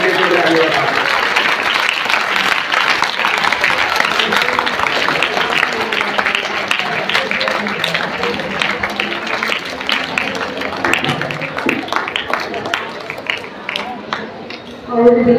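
Applause from the audience at a Teachers' Day event at an Urdu school, a dense patter of clapping mixed with crowd noise and talk, swelling briefly near the end.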